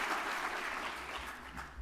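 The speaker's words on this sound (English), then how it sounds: "So let's give them a round of applause." An audience at a conference keynote applauds steadily, dense clapping that fills the space at an even, full level throughout.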